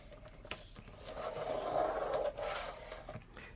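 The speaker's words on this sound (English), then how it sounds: "I just need to get my burnishing done here." Papercraft pieces are burnished by hand, giving a soft, close rubbing scrape that swells and fades over a few seconds.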